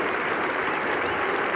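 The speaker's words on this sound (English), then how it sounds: "to a great cheer from this Yorkshire crowd" A Yorkshire crowd at the 1981 England v Australia Test match at Headingley cheers and applauds steadily, a dense wash of clapping that is loud and continuous throughout.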